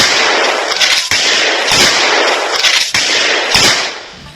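Sharp, loud bursts of gunfire crack in quick irregular volleys during a commando operation, several shots close together with brief gaps between them, and no talking.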